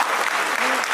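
An audience at a live comedy show in Coimbatore claps continuously in dense, steady applause throughout the short moment.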